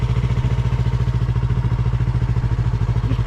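A motorcycle engine idling at low speed during riding practice, a close, steady, rapid thumping pulse that keeps an even rhythm throughout.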